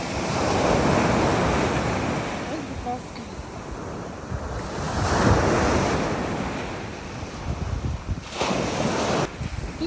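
Surf washes steadily onto a sand and pebble beach on Crete, with swells rising and falling around a constant rush and some wind buffeting the microphone.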